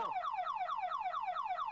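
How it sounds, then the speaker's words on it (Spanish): A car alarm wails nearby in a fast repeating downward-sweeping tone, loud and steady. "¡Apaga la alarma, hombre!"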